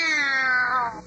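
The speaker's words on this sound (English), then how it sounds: "Oh, that's just the cat." A cartoon cat lets out a single loud, drawn-out meow with a falling pitch that trails off at the end, heard alone without any talk.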